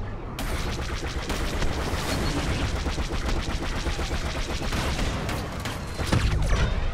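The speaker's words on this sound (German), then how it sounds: "Was für eine Explosion." Gunfire and explosions from the Star Wars Battlefront 2 video game crackle in a dense, continuous barrage, with a heavier blast rising near the end.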